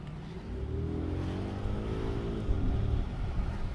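A 2007 Audi A8 L with a 4.2-litre V8 pulls along in second gear, its steady low engine drone rising slightly in pitch over a few seconds, with a constant rumble throughout.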